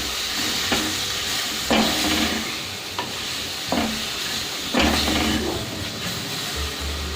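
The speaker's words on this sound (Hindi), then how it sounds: "मिर्च हमारी फ्राई हो चुकी है। इसको फ्राई करते हुए मुझे 5 मिनट हो गए।" Stuffed green chillies fry in a pan with a constant loud sizzle, while a utensil scrapes and stirs in regular strokes about once a second.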